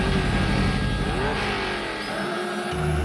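The Turbo Mule, a cartoon vehicle, revs away with a loud, continuous whining engine roar whose pitch rises and bends, ending in a brief dip.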